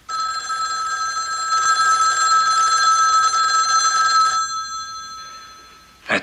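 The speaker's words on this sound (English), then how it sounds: "Or that telephone ringing." Telephone bell ringing steadily and loudly for about four seconds, then a brief trailing ring and a short final burst, with no talk.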